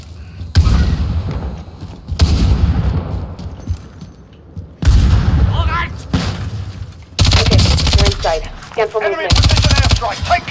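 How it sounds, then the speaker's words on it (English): Video game combat in a battle royale match: heavy explosions from a precision airstrike and bursts of gunfire, each blast loud and close, hitting in separate waves with quieter gaps and voices talking between. "Enemy precision airstrike."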